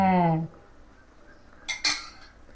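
A metal lid clinks down onto a pot of Madurai-style chicken curry, two quick bright clatters near the end after a voice fades out.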